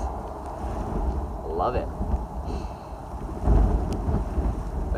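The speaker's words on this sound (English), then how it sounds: "It's windy, it's rainy." Blustery wind and steady rain outdoors in Tillamook, Oregon, with a low rumble swelling near the end and a brief spoken remark over the weather.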